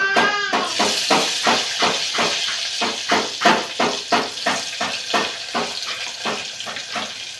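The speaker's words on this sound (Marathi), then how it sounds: "आता मी टमॅटो घालते." Chopped tomatoes dropped into hot oil with roasted garlic, a loud burst of sizzle followed by rhythmic hissing pulses, about once per half second, up close with no talk.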